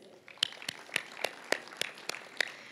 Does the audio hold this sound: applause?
yes